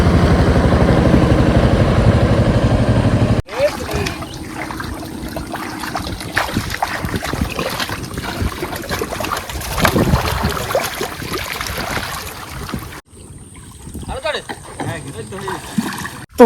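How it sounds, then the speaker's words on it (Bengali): A boat being launched on the Matla river, with a loud rumbling roar at first, then water sloshing, splashing and an engine murmur under people talking, close by. "তো বন্ধুরা, আমাদের বোট নামানো কমপ্লিট।"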